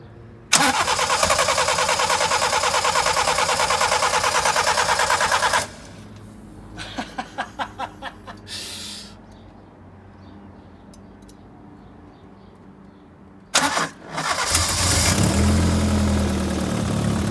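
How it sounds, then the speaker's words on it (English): A Toyota Glanza engine wired to a mini loom cranks and fires into a loud, steady run, cuts out, cranks again in a quick series of pulses, then restarts and roars back at close range. "1 Glanza running off our mini loom"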